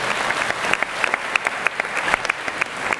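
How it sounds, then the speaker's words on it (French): Ceremony audience at a New Year's greetings event applauds a mayor, with many hands clapping in a dense, fairly close burst and individual sharper claps standing out throughout about three seconds, without speech. "mais vous pouvez l'applaudir aussi."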